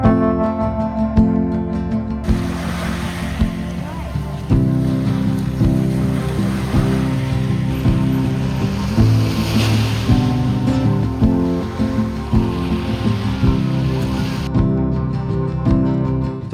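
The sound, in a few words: ocean waves on West Oahu beach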